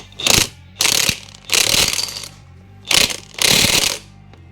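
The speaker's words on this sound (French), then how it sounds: "Je vais serrer la clé à choc du coup." An impact wrench hammers in five sharp, rattling bursts with short pauses between them as it tightens the alternator rotor screw during engine reassembly, loud and close.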